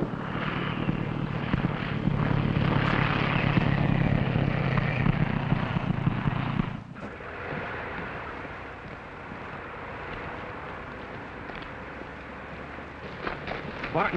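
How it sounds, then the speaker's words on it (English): A propeller plane engine from a 1940 film runs at a loud, steady roar for about seven seconds, then drops abruptly to a quieter, continuing drone. "Start the motor."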